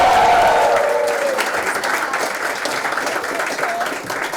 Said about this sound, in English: we have lovely people like you cheering for us